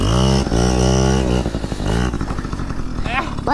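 A Yamaha PW50 dirt bike engine revs hard during a wheelie, a loud, close, buzzing two-stroke whine that rises and falls, with a voice talking over it.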